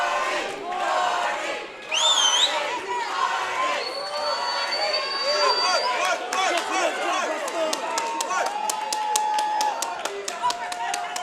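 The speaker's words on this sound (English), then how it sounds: "Crowd coming alive here at Sony Hall." A boxing crowd at Sony Hall in Times Square cheers and shouts during a women's bout, loud excited yells and whistles rising over steady crowd noise, with sharp punch-like impacts and a commentator talking throughout.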